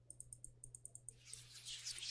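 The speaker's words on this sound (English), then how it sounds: "Sorry if you're just hearing my mouse" A computer mouse clicks in a quick, regular series of about ten light taps, close and fairly faint, followed by a rush of softer background noise while playing a horror mystery visual novel.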